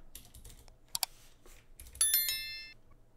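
Keys clack on a computer keyboard in quick, uneven bursts, close and fairly quiet, with a brighter ringing click partway through; no one speaks.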